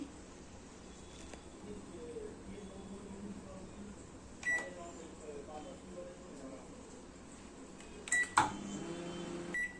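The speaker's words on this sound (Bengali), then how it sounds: "এটা আমি এবার একটু মাইক্রো ওভেনে ঢুকিয়ে দেবো, দিয়ে একটু ভালো করে ড্রাই করে সেটাকে পেস্ট করব" A microwave oven runs with a low, steady hum while drying spices for a mutton biryani paste, heard quietly in a kitchen with a few sharp clicks or beeps near the middle and toward the end.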